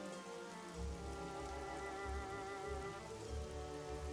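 Steady rain falling and pattering on surfaces, a soft continuous wash of drops with low rumbling swells underneath, no voices.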